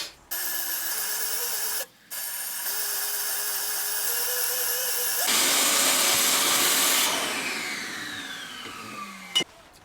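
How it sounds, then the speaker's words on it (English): Power drill boring bolt holes through a metal seat plate in a camper van, a close, loud, steady high whine that rises in pitch as it bites, with two brief stops and a final grinding finish. "we're going to drill the holes for the bolts for the swivel."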